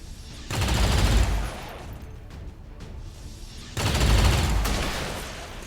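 Gunfire from the video game XCOM 2 Long War 2, two loud sustained bursts of rapid shots with booming low end, each about a second and a half long, separated by a quieter stretch.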